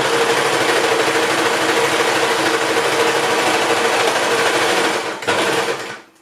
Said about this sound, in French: tout ce que je fais là, je le fais à la surjeteuse